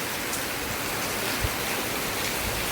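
Heavy rain pours steadily over a village in the Konkan region of India during the monsoon, a dense, even hiss with no break and no voices, and a single soft thump near the middle.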